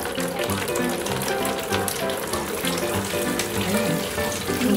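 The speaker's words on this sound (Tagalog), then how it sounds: "Kailangan hot water din pag pinapaligoan ang ating mga doggy." During a dog's bath, hot water runs and splashes continuously at a steady moderate level, with a murmur of music or noise underneath and no clear speech.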